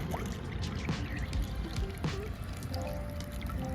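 A solar garden fountain pump shoots a stream of water that splashes and trickles continuously, with a bright pattering close by and a few gurgles mixed in. No voices.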